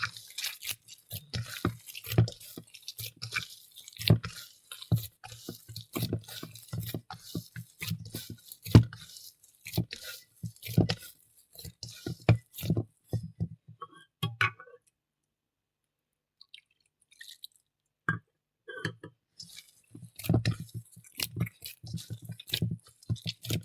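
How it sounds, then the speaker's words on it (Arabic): Hands knead bread dough for a Tunisian tajine loaf at home after salt and water are added, giving wet, squishing slaps and clicks in an uneven rhythm, then a short pause before the kneading resumes. "ونبدأ نعجن كيما هكا"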